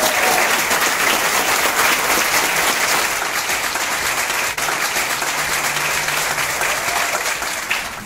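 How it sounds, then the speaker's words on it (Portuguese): Loud, dense audience applause fills a room at a business breakfast of a commercial association in Sorocaba as a speaker is welcomed, steady throughout and easing slightly at the end. "Palmas pro Bob"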